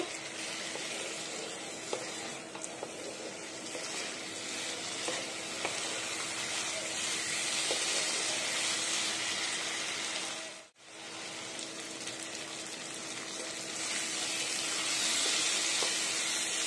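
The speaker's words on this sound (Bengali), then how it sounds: "তো আমি ঢাকনাটা খুলে এখন মাংসটা নেড়ে দেব।" Chicken pieces with spices stirred and fried in a pot, a dense, continuous sizzle and hiss that runs steadily throughout, cut off briefly by a momentary dropout partway through.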